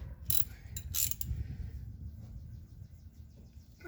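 A wheel hub bolt being snugged on a 2018 Ford F-150 front hub: a few quick, close ratchet clicks early on, then a low mechanical rumble as the tightening eases off.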